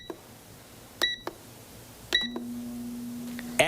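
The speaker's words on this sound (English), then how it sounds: "Now, we place the chicken in an air fryer and set the timer." A few short electronic beeps from an air fryer timer being set, single tones spaced about a second apart, near and clear against a quiet room with a brief low hum.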